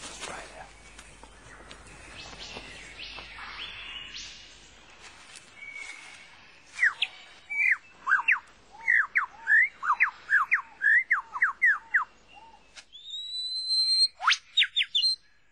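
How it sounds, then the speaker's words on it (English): A superb lyrebird of southern Australia sings in forest: after a stretch of broadband rustle, a rapid run of loud, repeated sweeping whistles and chirps, then a few high piercing rising and falling notes, close and clear. "The superb lyre bird of southern Australia."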